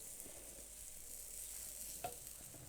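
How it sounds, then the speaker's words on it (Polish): Steady, soft sizzling from thick zucchini waffle batter cooking in a hot waffle iron, a continuous hiss with one small pop near the end. "około 3-4 minut smażymy"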